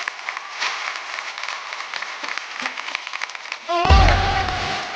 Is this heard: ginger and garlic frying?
no